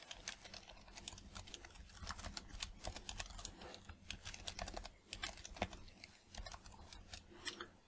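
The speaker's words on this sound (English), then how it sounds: "type in the email and password for that account" Fingers type an email address and password on a computer keyboard, a faint, close run of irregular clicking keystrokes with brief pauses.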